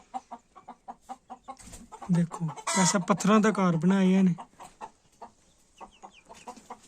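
Home-raised chickens and small chicks cluck in short repeated bursts near a stone-built house, the clucks clearest at the start and end, while a person talks over them in the middle.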